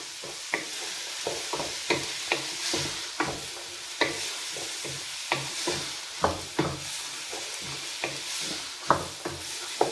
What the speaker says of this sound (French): Je les laisse bien mijoter, bien cuire.